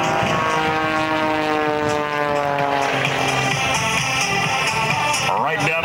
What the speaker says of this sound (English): Jim LeRoy works the Bulldog in the vertical plane today.